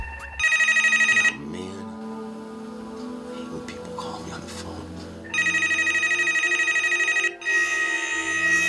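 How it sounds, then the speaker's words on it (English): Electronic telephone ringing in bursts, a bright repeating trill that stops and starts again, fairly loud, with someone talking in the gap between rings. "if that phone keeps ringing, my vlog's gonna be as long as a Finn Archer"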